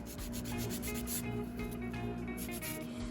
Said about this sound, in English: let's get to filing